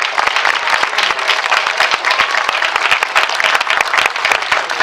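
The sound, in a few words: applause for Stephen Behr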